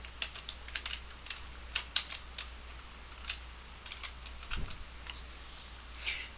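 Typing on a computer keyboard, with scattered soft key clicks in short irregular bursts, quiet and close, with no voice.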